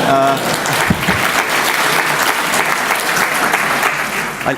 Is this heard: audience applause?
yes